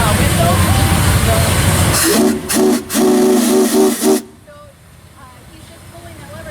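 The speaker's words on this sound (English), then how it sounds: "How does the whistle work? Well, we have each pull the whistle." A steam engine's whistle at an antique steam show cries out in several sharp, loud blasts in a short stuttering rhythm over a hissing background, then cuts off, leaving quieter ambient noise and faint voices nearby.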